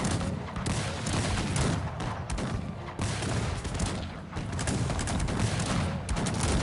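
Dense, continuous gunfire and volleys from a Cossacks 3 battle, with repeated musket-style bursts and booms layered into a loud, sustained clash that carries without pause.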